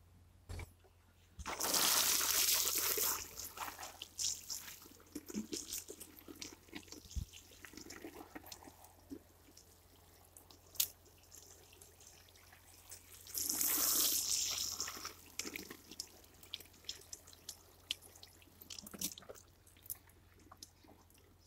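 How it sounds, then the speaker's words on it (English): Water from a watering can splashes onto garden plants at an allotment in two separate pours, each lasting a few seconds, with quiet gaps between them filled by faint drips and rustling. "And now I'm just going to give these a water"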